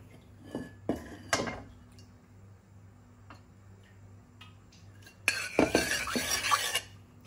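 A pan is set on a gas burner in a home kitchen, with a few clanking knocks early on, then a quiet stretch and a sudden steady rushing hiss near the end.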